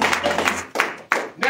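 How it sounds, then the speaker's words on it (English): A church congregation claps hands in a few uneven bursts, fairly close and loud, with voices mixed in among the claps. "Let's clap our hands."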